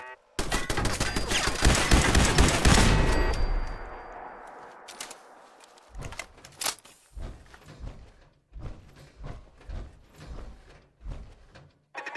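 Automated turrets in Fallout 4 unleash a loud, dense burst of gunfire for about three seconds, followed by a decaying rumble and then scattered, rhythmic bangs and thuds at moderate distance.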